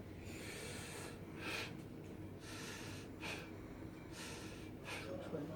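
A clinician imitates vesicular breathing with his voice, producing soft, breathy inhale-exhale swishes repeated about four times in a steady rhythm, close and moderately quiet.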